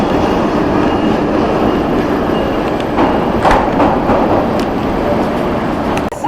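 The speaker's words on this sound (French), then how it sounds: "voici un ICE, donc c'est l'équivalent de notre TGV mais en Allemagne" A German ICE high-speed train rumbles steadily nearby, a loud continuous roar of rolling stock with a few brief rattling surges midway and no voices.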